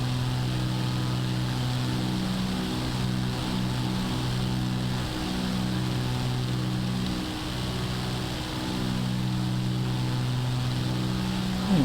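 Engine drone of a Cirrus SR-22 single-engine propeller aircraft in Microsoft Flight Simulator 2024, a steady, loud cabin hum with layered tonal harmonics that waver slightly in pitch, continuous and alone.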